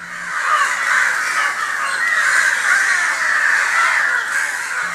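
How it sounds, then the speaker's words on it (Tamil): A large flock of crows caws continuously around a house, many overlapping calls blending into a loud, steady chorus that fills the whole stretch without pause. "சுற்றிலும் ஆயிரம் காக்கைகள் பறந்து கொண்டிருந்தன"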